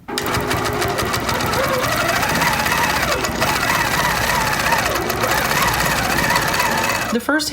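Longarm quilting machine stitching fabric, a loud steady mechanical whir with rapid needle knocking running continuously, ending with a brief clunk as it stops.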